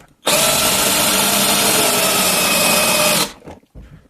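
An Einhell TE-CD 18/40 Li BL cordless drill set to drill mode runs steadily at high speed for about three seconds, a loud continuous whine, then cuts off abruptly.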